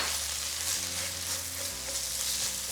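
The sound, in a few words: stirring chipotle chiles into cooking chorizo in a pan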